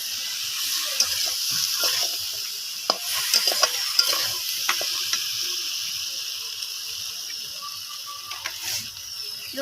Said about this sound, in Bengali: এবার সব কিছু দিয়ে একটু মশলাটা কষাবো ভালো করে।